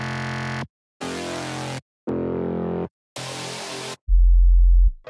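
Four buzzy synth bass notes play one after another with short gaps, each a different tone, followed by a deep humming sub-bass note.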